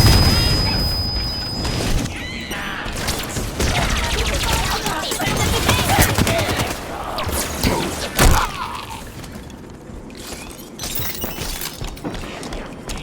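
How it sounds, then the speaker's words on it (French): Grenade blast and gunfire in the video game Halo 5: Guardians, loud dense battle noise with a sharp heavy explosion midway and continuing rapid fire around it. "Une grenade! Attention!"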